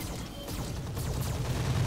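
Mechs in the Roguetech video game fire all their weapons at once, a dense, rumbling barrage of overlapping booms and impacts that keeps building over two seconds, with no talking.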